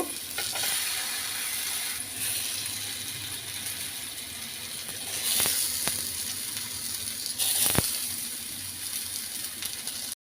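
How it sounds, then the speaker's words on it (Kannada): Brinjal pieces frying one at a time in hot oil in a frying pan, a continuous bright sizzle with occasional sharp ticks and clicks of a utensil, no speech. "ಈಗ ಒಂದೊಂದೇ ಬದನೆಕಾಯಿಯನ್ನು ಫ್ರೈ ಮಾಡ್ತಾ ಹೋಗಬೇಕು"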